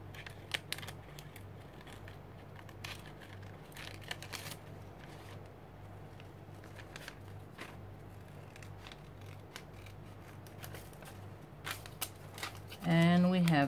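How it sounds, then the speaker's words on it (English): Small curved nail scissors snipping a vellum paper butterfly, a series of short crisp cuts in an irregular rhythm, close and quiet, with a sudden louder rustle at the very end. "I'm taking nail scissors. They are better to use on small things"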